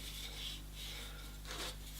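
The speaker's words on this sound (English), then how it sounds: "I'll continue sanding up through the grits, certainly up to about 600" Sandpaper rasps against a spinning wooden egg plate on a lathe in soft, repeated strokes over a steady low motor hum.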